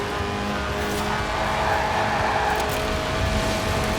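A race car's 190-horsepower 1.8-litre engine, revving to 8,000 RPM in the video game Forza Horizon 4, drones steadily throughout, a loud continuous mechanical roar with high-pitched whine, sustained without pauses.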